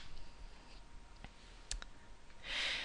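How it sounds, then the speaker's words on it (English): A single computer mouse click on a report button, a faint crisp tick standing alone against a quiet background hiss, followed by a brief breathy rustle. "then click the Run Report button at the bottom"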